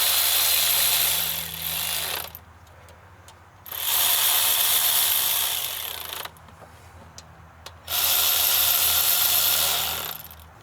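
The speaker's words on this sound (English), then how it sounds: "Once I know it's about to stop with the ratchet, I'm going to go ahead and stop" Ratchet wrench clicking steadily as it runs down rocker arm bolts on a Dodge Journey engine, three loud bursts of rapid pawl ticks separated by short quiet pauses.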